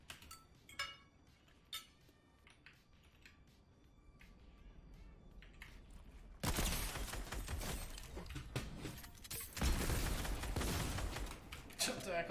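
Gunfire in an online shooter game, scattered faint shots and clinks early on, then a dense, loud burst of firing and explosions filling the second half, with a voice talking over parts of it.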